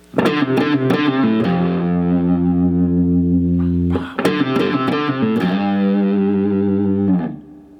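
Distorted electric guitar plays a pre-solo section: two loud phrases of short picked attacks that settle into ringing, sustained notes, close and alone with no voices.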